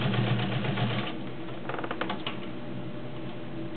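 A vintage Kenmore Heavy Duty 1207 sewing machine stitches through very stiff cotton, its rapid mechanical rattle steady and close at first, then thinning into a quieter run of clicks and taps.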